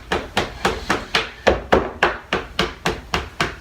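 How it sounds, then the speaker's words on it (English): A fork jabs repeatedly into a keto pie crust with a rhythmic series of about a dozen sharp, evenly spaced taps, close and distinct with no talking. "I'm going to put some fork holes in it because the bottom will bubble up."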